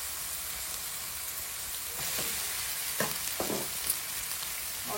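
Vegetables with pepper powder sizzle steadily in a pan for veg fried rice, a constant hiss broken by a few sharp scrapes of stirring near the end.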